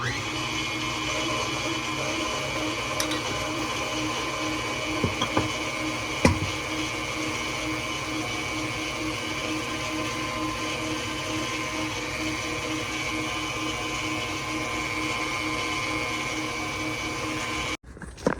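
Food processor mixing oatmeal whoopie pie batter, a steady, droning motor whir running for many seconds with a few brief knocks before it cuts off abruptly near the end.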